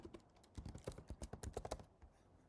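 Rapid clattering keystrokes on a computer keyboard, a quick uneven burst of close, crisp taps that fades off near the end, with no talking.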